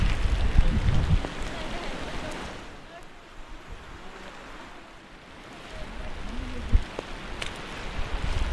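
Steady heavy rain hisses close by at a hilltop viewpoint in Kerala, louder at the start and end, with faint voices mixed in.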